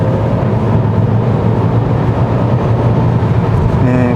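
A 2021 Kia Seltos 1.6 turbo gasoline 4WD with a 7-speed dual-clutch transmission downshifts under throttle on a winding road, giving a loud, steady engine drone inside the cabin that rises slightly toward the end.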